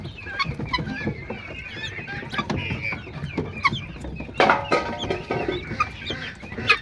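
Native country chickens cluck and chatter while eating freshly cut grass at a home yard, several birds close by with overlapping soft clucks and a few louder squawks throughout.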